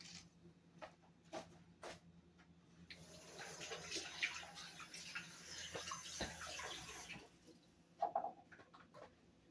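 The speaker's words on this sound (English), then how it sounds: "So I'm just going to wash my hands." A kitchen sink tap runs while hands are washed beneath it. The water is a soft, continuous splashing hiss with scattered clicks and knocks, swelling in the middle and ending with a brief clatter.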